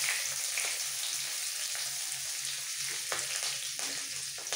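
Asafoetida and two slit green chillies fry in hot oil with a steady, close sizzle and occasional faint crackles, and no talking.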